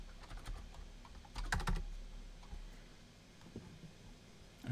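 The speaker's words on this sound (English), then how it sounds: "it's awfully hard to type and talk at the same time." Keys tap on a computer keyboard in brief, quiet bursts with pauses between them, close by and alone in a still room.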